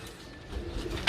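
A pet pigeon cooing softly and close by, a couple of low, murmuring coos under a quiet background, ending with a short brighter sound.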